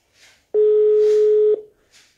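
A telephone dial tone sounds once as a steady, loud, pure beep lasting about a second while the next caller on a call-in debate show about Islam and politics is being rung, with faint noise before and after.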